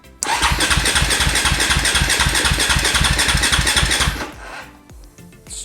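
A 2004 KTM 525 EXC motorcycle engine fires up abruptly and runs loud with a rapid, steady thumping beat for about four seconds, then cuts off and fades.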